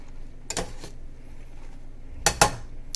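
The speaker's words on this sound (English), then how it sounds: "So I'm just gonna do a quick stir." Vegetable lo mein noodles are stirred in a pot, heard as two short bursts of utensil clatter and scraping against the metal, separated by a quieter pause.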